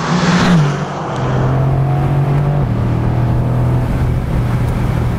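The 4-liter twin-turbo V8 of a 2021 Mercedes-AMG GT R revs loudly and close up, then drops its pitch on a downshift and settles into a steady, heavy drone.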